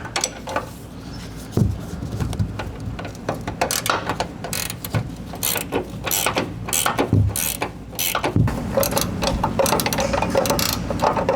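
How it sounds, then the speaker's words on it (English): A 24mm ratcheting wrench clicks rapidly and continuously while loosening the factory upper control arm on a 2020-or-newer GM 2500 pickup, with occasional metallic clanks and thumps mixed in throughout. "It is a 24mm ratcheting wrench."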